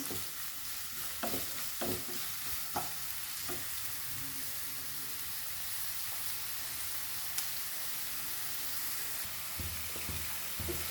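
Onions fry with curry leaves in oil for kanda poha, a steady close sizzle running throughout with occasional light clicks of a spoon stirring the pan and no talking.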